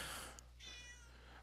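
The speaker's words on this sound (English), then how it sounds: "you can probably still hear my female cat" A female house cat gives a single faint, drawn-out meow at close range over a low steady hum, with no talking.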